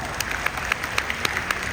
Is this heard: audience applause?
yes